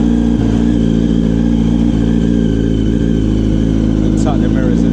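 Recovered motorcycle engine idling loud and close with a steady low throb and clatter, while a voice talks briefly over it.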